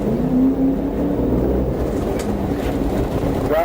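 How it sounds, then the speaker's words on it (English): A Dodge Charger accelerates during a police pursuit. A loud, rumbling engine drone fills the whole stretch, with a whine rising near the end. "The Charger slowed briefly, then accelerated, initiating a high-speed pursuit."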